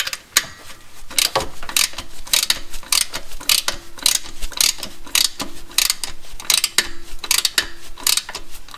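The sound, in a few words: ratchet tightening 12mm bolt on Hyundai Getz AC belt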